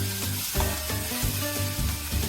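Fried rice being stirred in a pan after garam masala, coriander powder and salt go in, a steady sizzle under repeated scraping strokes of a spoon, close and moderately loud, with no talking.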